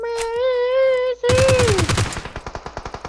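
Automatic gunfire in PUBG Mobile, a fast rattling burst of rapid shots that follows a sustained tonal drone, the shots repeating evenly and fading toward the end, loud and close.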